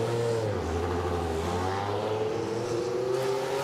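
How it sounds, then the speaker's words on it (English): An air-cooled Porsche 911 rally car engine drones loudly and steadily on a rally stage at the Goodwood Festival of Speed, its pitch rising and falling slightly as it drives past. "there's the air-cooled noise from the Porsche 911"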